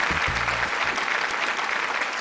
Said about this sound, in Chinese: 掌声欢迎她